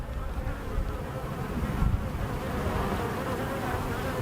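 Honeybees buzz in a steady, close swarm around an open hive during an inspection, a continuous droning hum with no voices.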